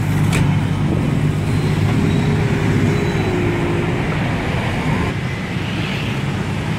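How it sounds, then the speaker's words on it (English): Night traffic on a busy Bangkok city street, a steady loud roar of passing cars and engines with a low vehicle drone rising and fading through the middle, continuous and close. "lots of traffic."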